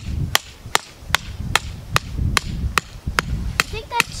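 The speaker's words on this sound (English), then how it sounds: "Now we're going to try to hammer it in here." A hammer strikes while driving a rope into a Christmas tree bird feeder, landing about ten sharp, evenly spaced blows, roughly two per second. The blows are close and loud, with faint background voices between them.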